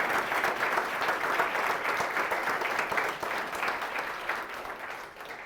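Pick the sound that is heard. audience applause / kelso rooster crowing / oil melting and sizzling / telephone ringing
audience applause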